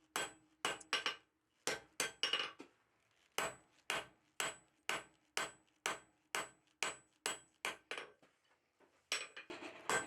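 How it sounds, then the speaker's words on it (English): Hand hammer forging a 1/2-inch square steel bar into blacksmith tong blanks, with about twenty sharp ringing strikes in an uneven rhythm and short pauses, close and clear. "I'm using the flat of the hammer to widen it out a little bit so I have a little better target"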